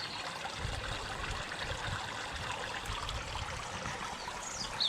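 Koi pond pump outlet releasing bubbles into the water: a quiet, continuous burble and trickle with gentle low splashing, steady for several seconds with no voices.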